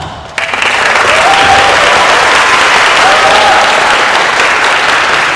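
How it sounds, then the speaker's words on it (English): School competition audience at Vajiravudh College breaks into a loud, full round of applause after a brief quiet start, sustaining steady dense clapping throughout. "please give a round of applause to Tosta."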